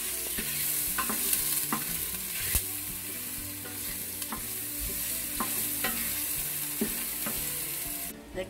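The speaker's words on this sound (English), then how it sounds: "Ito na po yung mantika, mainit-init na po. Ngayon, lalagyan ko naman ng hotdog." Hotdogs fry in hot cooking oil for chicken sopas, a steady loud sizzle with repeated sharp clicks of a utensil against the pan, no voices.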